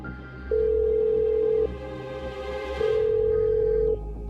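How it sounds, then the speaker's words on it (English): A phone ringback tone sounds twice, two long steady electronic rings separated by a pause, clear and close. "I started ringing Kelly"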